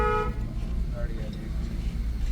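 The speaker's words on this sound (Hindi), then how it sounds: "लॉन्ग हॉर्न पुश करो" Car horn from a vehicle in a crowded night market, one sustained honk at the start under continuous traffic noise and engine rumble, while someone talks throughout.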